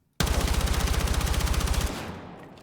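A rapid automatic burst of gunfire from Battlefield 6, sprayed at a wall without recoil control: a loud, close, evenly spaced string of shots lasting under two seconds, then a short fading echo.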